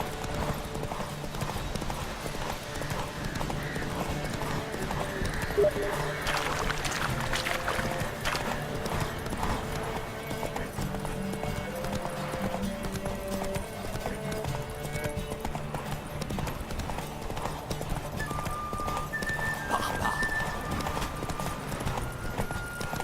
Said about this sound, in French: Au galop!